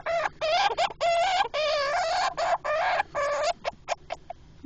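A hamster gives a run of quick, squeaky chirps in short bursts that sound like laughter, close and fairly loud, with brief gaps between the bursts and no talking.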